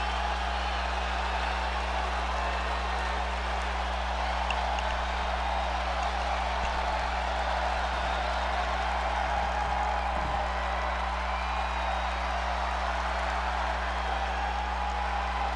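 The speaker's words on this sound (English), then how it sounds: "The crowd on their feet." A crowd cheering in the WWE 2K25 video game: a sustained, roaring arena wash with no breaks, holding fairly level beneath a steady low hum.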